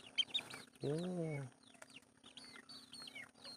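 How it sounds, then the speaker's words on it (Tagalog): Brooder chickens cluck and chirp nearby, with several short calls and one longer drawn-out squawk, while a person talks briefly in the background. "Grabing manok ko, sinusubsob ang ulo"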